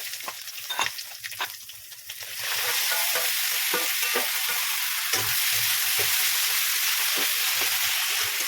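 Saag greens fry and get stirred in a hot pan, with a few scraping strokes at the start, then a loud, steady sizzle that holds to the end, broken by repeated spatula scrapes.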